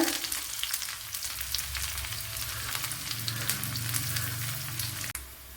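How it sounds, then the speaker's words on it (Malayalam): Shallots dropped into hot oil with popped mustard seeds sizzle steadily in a pan, a continuous close frying hiss with a brief clatter near the end. "കടുക് പൊട്ടിയിട്ടുണ്ട്. ഇതിലേക്ക് കൊച്ചുള്ളി ഇട്ട് കൊടുക്കുക."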